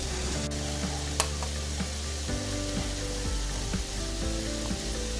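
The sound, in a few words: snow peas sizzling while stir-frying for chicken lo mein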